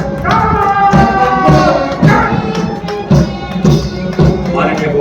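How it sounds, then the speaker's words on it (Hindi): Loud, rhythmic clapping from a crowd at a police passing-out parade for newly trained officers, coming in repeated bursts with thumping beats. A voice talks over the applause. "जोरदार तालियां"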